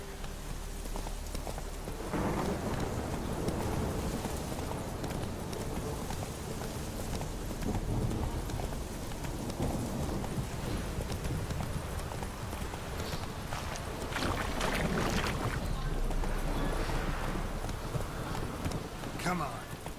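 A horse gallops in The Witcher 3 video game with steady clip-clop hoofbeats that run throughout, up close, with voices speaking over them.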